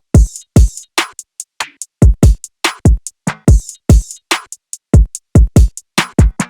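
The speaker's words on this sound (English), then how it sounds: "this soft, almost acoustic sounding snare drum" A soft, dry snare drum plays a quick rolling pattern of light hits, some accented and some ghosted, with a few gentle flams, up close and alone.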